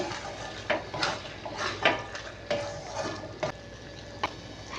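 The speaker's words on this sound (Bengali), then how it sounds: "এবার এর মধ্যে আমি আলুগুলো দিয়ে দেব দিয়ে এটা একটু ভালো করে নেড়ে নেবো" Potatoes are added to a soybean curry and stirred in a pan: a spatula scrapes and clinks against the metal in a loose, repeated rhythm over a faint background hiss, moderately close.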